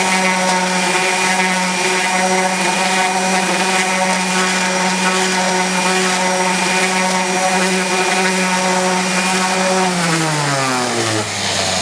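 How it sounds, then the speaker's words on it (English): A handheld power sander runs on a wooden board, a loud steady motor whine with strong harmonic tones that holds throughout, then winds down near the end as it is switched off. "I'm going to sand half of this way."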